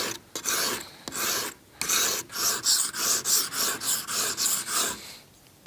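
A point knife is drawn across a diamond grit sharpening stone in about a dozen loud, close, rhythmic rasping strokes. The strokes come after a few slower scrapes, with no talk.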